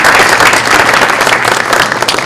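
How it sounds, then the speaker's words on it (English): Audience applause for Senator Barefoot, a distinguished guest at an education savings account event held by Parents for Educational Freedom: loud, dense clapping from a crowd, steady throughout and close, with no talk over it. "How about another round of applause for our distinguished guest here"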